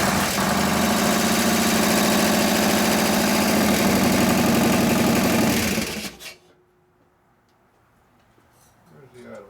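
A rebuilt 2001 Indian Scout motorcycle with an 88ci big-bore S&S engine runs loud and steady, a throbbing idle with a fast rhythmic pulse, then cuts out abruptly about two-thirds through, leaving near silence and faint background noise.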